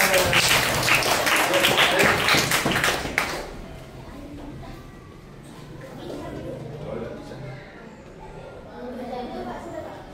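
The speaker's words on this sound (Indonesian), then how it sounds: "Tepuk tangan." A primary school class of fifth graders claps their hands together in a short, loud burst lasting about three seconds, then the room settles into quieter murmuring and classroom movement.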